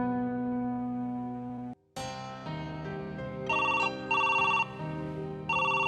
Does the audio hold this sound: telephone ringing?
yes